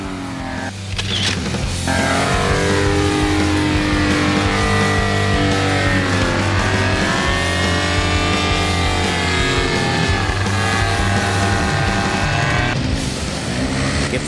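VR 150 paramotor engine running with a GTR paraglider wing at a Kalasin paramotor club gathering, a loud, steady, close droning buzz that holds for the whole stretch with slight pitch wavers.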